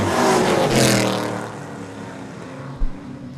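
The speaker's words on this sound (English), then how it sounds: "Off of turn number 4 they come, up on the throttle. There's a green flag, and we're underway." Late model stock cars at Seekonk Speedway surge onto the throttle at the green flag: a loud, dense roar of several engines that slowly fades, broken by a sharp thump near the end.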